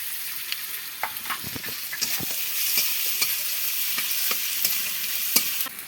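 Garlic paste, ginger paste and green chili frying with onions in a pan, a continuous close sizzle with frequent clicks and scrapes of a stirring spoon.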